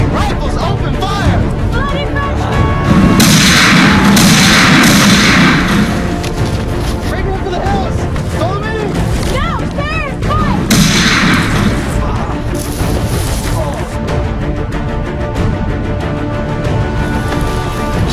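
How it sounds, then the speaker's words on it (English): Rifle volley gunfire in a Sharpe's Rifles film trailer, loud booming bursts of shots and crashes mixed with dramatic music and crowd clamor across most of the stretch. "Rifles open fire!"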